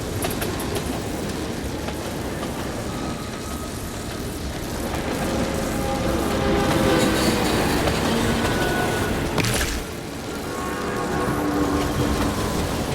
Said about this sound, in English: And where are these train cars rushing off to?